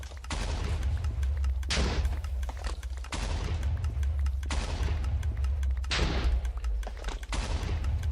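Wood blocks exploding in the Minecraft video game: loud, dense crackling bursts that flare up several times over a steady noisy background, with no talking.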